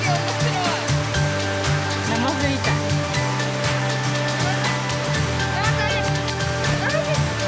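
Water pours steadily into a pool from a waterfall about two meters deep at the base, a constant rushing roar throughout with a dog playing nearby and people talking faintly underneath.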